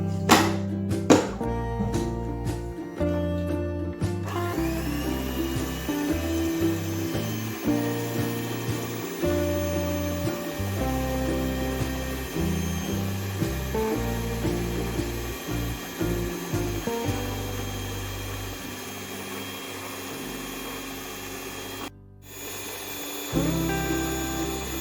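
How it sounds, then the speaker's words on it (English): An electric mixer beats banana bread batter with melted butter and brown sugar, a steady motorized whir that runs nearly the whole time beneath louder background music, with a brief dropout near the end. "now mix it in the mixer."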